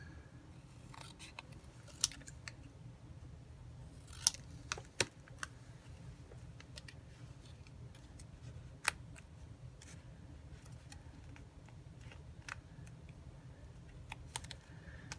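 Scissors snipping paper while trimming a piece for a handmade junk journal page, a series of quiet, scattered close snips and crisp clicks over a low steady background hum.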